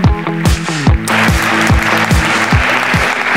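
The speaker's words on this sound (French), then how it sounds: "On peut vous applaudir" At a Campus TF1 stage event, an audience applauds in a dense wash of clapping over pulsing, beat-driven music that thumps steadily through the short stretch.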